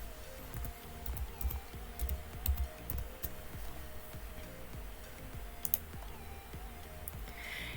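Computer keyboard keys are typed in steady, quick bursts of clicks at close range, with a faint background hum and no talking.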